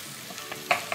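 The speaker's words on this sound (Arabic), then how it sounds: "نزلنا بالبصل المكعبات" Diced onions sizzle and get stirred in a pot as the base of a vegetable soup, with soft frying crackle and a few brief scraping stir sounds, close and alone.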